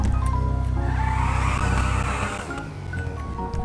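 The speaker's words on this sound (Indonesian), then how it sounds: "Kita pakai suara motor bati aja ya." A Bati motorcycle engine in a video game, used as the custom engine sound on a drag-style Honda Supra X: a steady, buzzing, close engine drone holds and shifts pitch slightly for a few seconds, with no voices.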